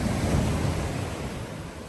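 Ocean waves wash onto a beach in Cornwall on a morning, a loud continuous roar of surf mixed with wind buffeting the microphone, with no talking.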